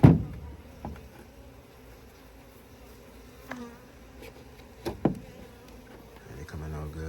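Honey bees buzz around a hive during a first honey harvest, a steady close hum with a few louder bumps and clatters from handling the frames.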